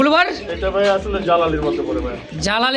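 Pigeons at a pigeon market coo in low, repeated pulses beneath loud, continuous talk between people nearby.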